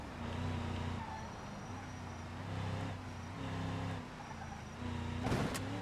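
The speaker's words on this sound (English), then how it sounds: "I'm driving at the literal limits of this vehicle" Car engine in BeamNG driven hard at its limits, a droning engine note that rises and falls in repeated surges with a brief clatter near the end.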